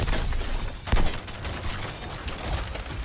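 Helicopter gunfire in the video game Suicide Squad Kill the Justice League: a rattling fusillade with one sharp, loud burst near the start over a noisy, crackling battle din.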